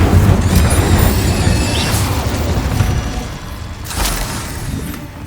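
Magic spells burst as explosions inside a cave in the Hogwarts Legacy video game. A steady rumbling roar is broken by sharp blasts at about two and four seconds.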